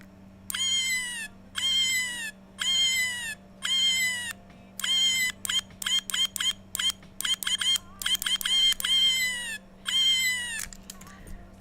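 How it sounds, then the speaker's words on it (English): A small electronic cat keychain toy gives out repeated synthetic meows when its head is pressed, at first in slow evenly spaced bursts and then in quick stuttering clusters over a steady electrical hum. "It meows and the eyes glow when you press on its head."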